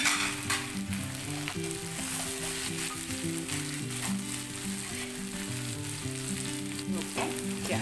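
Roughly a tablespoon of celery sizzles steadily as it is stir-fried in a hot pan, a continuous bright hiss with occasional scraping, heard over background music with clear tonal notes.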